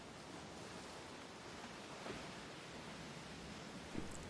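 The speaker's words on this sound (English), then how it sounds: "The sound of crashing waves" Crashing ocean waves from the Umineko video game, a soft continuous wash of surf with faint swells cresting around the midpoint and near the end, distant and low in level, with no voices.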